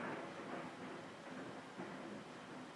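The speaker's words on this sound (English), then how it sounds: "Hear the thunder?" Thunder rumbling during a storm, a steady broadband roar that holds loud and even through the whole stretch, with no voices over it.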